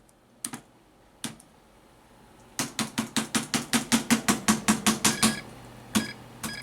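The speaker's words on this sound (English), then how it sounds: "I guess I have to press the enter key." Rapid keystrokes on a computer keyboard hooked to a thrift-store Dell Dimension 5150 desktop, a few isolated clicks followed by a quick run of about fifteen evenly spaced taps, then two last presses, close and crisp with no talking.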